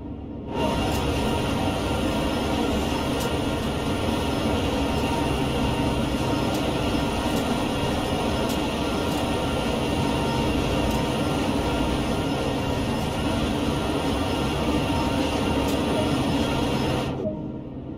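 A 4,300-horsepower ACE diesel locomotive in Train Sim World 2 drones continuously, a dense steady engine roar with rhythmic mechanical clatter, constant in loudness from start to finish.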